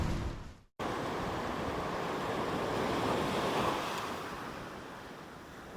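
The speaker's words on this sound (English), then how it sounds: "I've never experienced wind like this, but from inside the tent, it's pretty intense." Strong gusts of wind at a beach campground, heard from inside a tent, make a loud, steady roar with the surf mixed in. The noise cuts out sharply for a moment near the start and then holds at full force.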